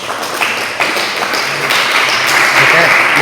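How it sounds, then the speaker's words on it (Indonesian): Audience applause during an Islamic study session reciting Amriti verses, a steady wash of clapping sustained throughout, moderately loud and close, with no speech over it. "Ya tepuk tangan ya."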